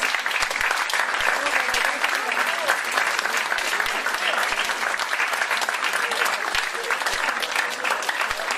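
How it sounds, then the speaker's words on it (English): Sustained applause from a large audience of sales leaders at a company training event, dense and steady clapping filling the whole stretch at close range without letting up. "Let's give these leaders a round of applause."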